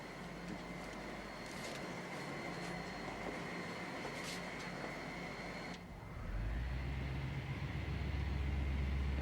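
A train rumbles at a station platform, a steady mechanical drone with a faint high whine that shifts midway into a heavier, louder low-pitched rumble as the engine builds, with no voices over it.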